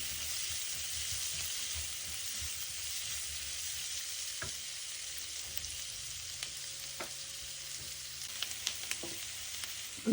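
Onion, ginger, garlic and curry leaves sauté in a pan for a pork pepper fry, a soft continuous sizzle with occasional stirring clicks and scrapes near the end, no talking.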